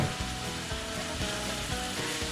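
Ground turkey sizzles steadily as it browns in a frying pan, a continuous close, moderate frying crackle with no voices.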